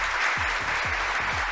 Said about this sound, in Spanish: El bot no hace aplausos, yo lo tengo que hacer manual